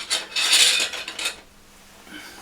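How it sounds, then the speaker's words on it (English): A round file rasps around a switch hole in the panel of a Selmer Thunderbird 50 MKII amplifier, in a few quick, close, harsh strokes over about a second before fading to quiet. "I'll just go around briefly with the file and see if we can get the switch to fit"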